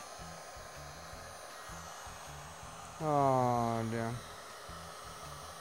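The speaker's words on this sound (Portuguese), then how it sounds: "Soprador ou secador de cabelo. Vem aqui, liga o bichinho." A hair dryer switches on to heat and shrink plastic. It gives a loud, close whirring whine for about a second over a steady low background hum, then cuts off.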